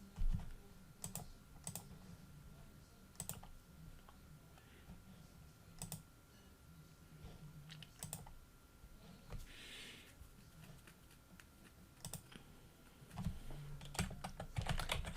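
Typing on a computer keyboard, quiet close clicks arriving in short irregular bursts with pauses between, growing denser toward the end over a low background hum.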